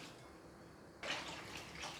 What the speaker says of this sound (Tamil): உங்களுக்கு எவ்வளோ குழம்பு தேவையோ அந்த அளவு நம்ம வந்து தண்ணி சேர்த்துக்கலாம்.